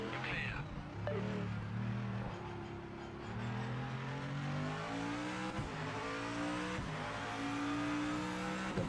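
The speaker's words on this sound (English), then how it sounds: "Glorious engine sounds." Race car engine in the sim racing game Project Motor Racing, revving up and down through repeated gear changes with rising and falling pitch sweeps, fairly quiet and steady throughout, with faint background talk.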